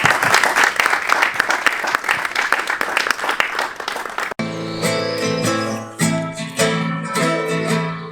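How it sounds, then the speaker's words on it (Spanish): Audience applause at a 2025 tribute to the Council of Aragon: dense, loud clapping for about four seconds, then giving way to a sung, music-backed anthem. "Aplaudamos por el milagro."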